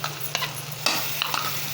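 Masala with dry coconut fries and is stirred in a pan for an Andhra-style chicken fry, with a steady low sizzle and a few sharp scraping strokes of a spoon against the pan.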